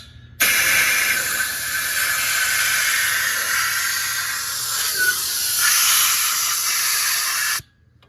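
Brake cleaner sprays steadily from an aerosol can onto a part of a Show Queen mower, producing one loud, continuous hiss that lasts about seven seconds before stopping abruptly.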